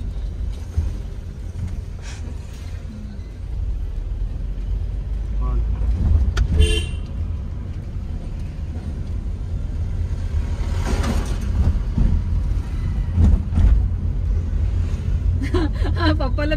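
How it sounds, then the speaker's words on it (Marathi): A car creeps slowly in low gear along a narrow lane, its engine a steady low rumble with a few short horn toots from nearby traffic, while people talk throughout. "स्लोच तर होती आपली गाडी."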